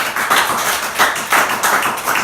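A church congregation applauds in a Spanish-language service, a dense and loud patter of many hands with a few rhythmic surges and no speech over it.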